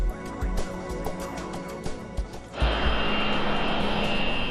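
Boeing 727 jet engines run at the runway threshold before takeoff. A loud, steady roar fills the clip and swells into a broader, harsher rush partway through, with no voices.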